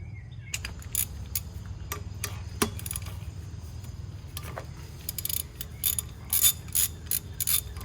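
Quiet, repeated ratchet clicks come in short bursts as a 19 mm socket loosens coolant line banjo bolts in a garage, over a low steady hum and with no talk.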